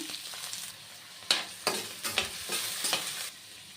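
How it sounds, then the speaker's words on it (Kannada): Chopped onion and curry leaves fry in a pan for a Kannada bottle gourd palya, with a steady sizzle broken by several loud scraping stirs near the microphone, and no talking. "ಹಚ್ಚಿಟ್ಟಿರುವಂಥ ಈರುಳ್ಳಿ ಮತ್ತು ಮಾಡಿ ಕರಿಬೇವು ಇಷ್ಟು ಹಾಕ್ಕೋಬೇಕು ಹಾಕ್ಕೊಂಡು ಒಂದು ಸ್ವಲ್ಪ ಫ್ರೈ ಮಾಡ್ಕೋಬೇಕು"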